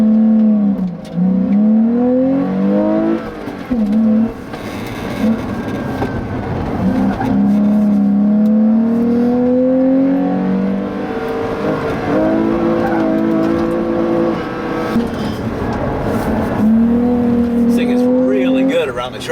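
A 197-horsepower mid-engine Porsche Boxster is driven hard around a tight track, its engine note rising and falling steadily through acceleration and shifts, loud and close throughout, with a voice talking over it.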